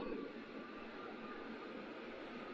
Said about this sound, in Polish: To moja wina, że jeżdżą pociągi.